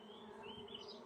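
Honey bees buzz in a beehive, a faint, steady drone with a wavering high hum, close but quiet, and no speech.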